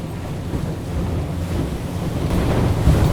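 Boat motoring through choppy water, with a continuous wash of waves and splashing against the hull and wind buffeting the microphone, no talking.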